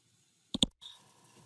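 Two quick computer mouse clicks, close and faint, in a quiet room during a Windows training demo, followed by a soft low hum.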